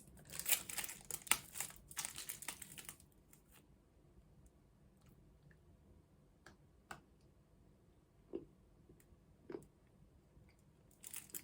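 A chocolate wrapper crinkles close up in dense, crackly bursts for the first few seconds, then quiets to sparse, scattered ticks and small crackles with no voices.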